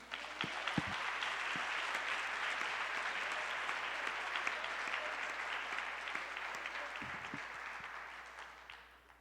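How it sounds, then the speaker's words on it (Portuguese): A church congregation applauds during a family celebration service: broad, sustained crowd clapping at a steady level across the stretch, slowly thinning toward the end, with faint voices mixed in. "Você pode aplaudir a Jesus?"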